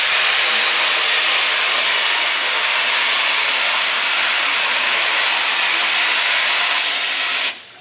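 Pressurized water sprays steadily against a screen-printing screen, washing unexposed emulsion out of the mesh; a loud, continuous broadband hiss runs almost the full length before cutting off abruptly near the end.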